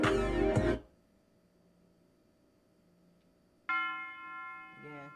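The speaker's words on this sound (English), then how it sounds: "Again, just the bell." A single bell sample rings out in an MPC-made modern dance R&B beat: a dense tonal burst opens, then near-silence, then a sustained bright bell tone enters and rings on, with a short pitched flourish at the end.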